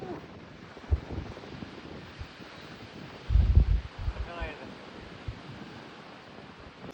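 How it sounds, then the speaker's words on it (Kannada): Steady wind gusts buffet the microphone on a misty mountain peak at Mullayanagiri in Chikmagalur, a rushing roar swelling briefly midway, while someone talks faintly underneath. "you could listen the wind"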